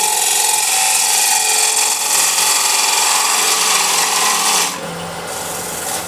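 A sharpened gouge cuts an 11-inch osage orange bowl on a lathe, a loud continuous rasping, hissing shear that holds steady for several seconds before dropping to a quieter whir.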